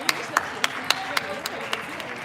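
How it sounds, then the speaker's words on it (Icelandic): Hands clapping in a steady, even rhythm, about eight crisp claps roughly a quarter-second apart, close by and clearly heard over a quiet background. "Ég er að klappa það."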